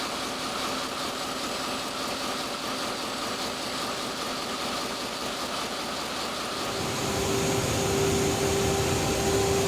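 Four main diesel engines of the polar research icebreaker Polarstern running in the engine room: a loud, steady mechanical drone with a constant hum, swelling deeper and heavier near the end, no voices.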